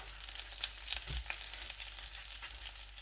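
Chicken pieces fry in a pan over low heat, giving a steady close-up sizzle and crackle with a brief low thump near the middle and no voices.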